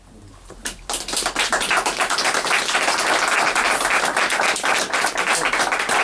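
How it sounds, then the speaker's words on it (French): An audience at an art exhibition for Joëlle Lebret and Guy Phelip breaks into applause, a dense steady patter of clapping that starts abruptly and holds loud and close throughout. "On vous applaudit tous les deux"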